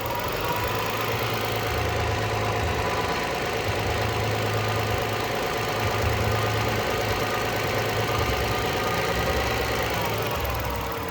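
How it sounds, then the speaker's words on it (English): A 1999 Lexus ES300 engine after a rebuild runs steadily near the microphone with a constant mechanical hum and rhythmic knocking texture, holding a fairly even idle-to-light-rev level throughout. "You can rev the engine up a little."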